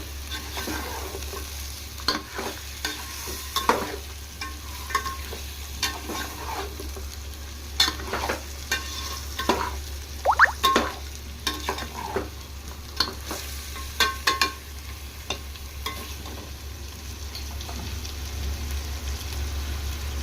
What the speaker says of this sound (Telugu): ఈ మసాలాల్లోనే 5 minutes అలా ఫ్రై చేసుకుందాం ఫ్రెండ్స్ ఈ చికెన్